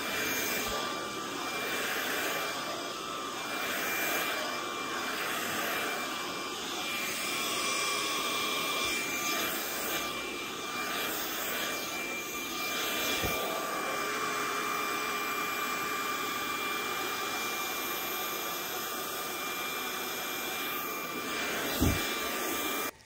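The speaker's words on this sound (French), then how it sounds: "on entend bien quand ça aspire les petites miettes, les petites perles" Steady roaring suction of a pet grooming vacuum running throughout, with faint crackles and brief rattles as small crumbs and beads are pulled in; one sharp thump near the end.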